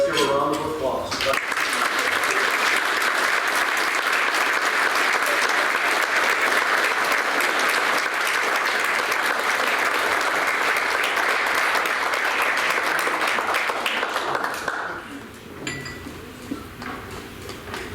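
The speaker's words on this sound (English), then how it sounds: "Let's give her a round of applause." Sustained audience applause fills a hall during a sports hall of fame luncheon and induction ceremony, steady dense clapping from a large crowd for about fourteen seconds before fading out into quieter room noise.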